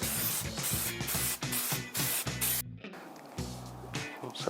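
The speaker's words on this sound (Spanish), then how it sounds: "en esta parte de aquí voy a poner adhesivo en aerosol" Aerosol spray adhesive hisses in several short close bursts onto BMW headliner fabric during an upholstery restoration, with a brief pause before a final run of sprays; background music plays throughout.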